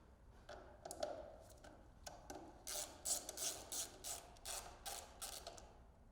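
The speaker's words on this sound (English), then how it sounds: "Then remove the 3 airbox cover fasteners." Airbox cover fasteners are undone on a 2023 Indian Sport Chief motorcycle, giving quiet, close, repeated ratcheting clicks in short bursts.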